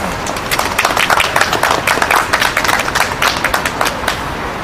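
A crowd applauds at an outdoor election-fraud protest rally in front of Kyobo, a loud, dense patter of many hands clapping steadily throughout with no talk over it.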